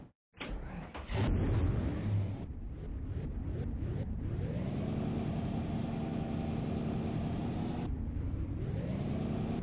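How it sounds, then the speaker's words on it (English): Race car engines in the NASCAR Racing 2003 game fire up at Dover Downs, a loud burst of starting followed by a steady, droning idle that holds with a brief dip before settling back in. "Drivers, start your engines!"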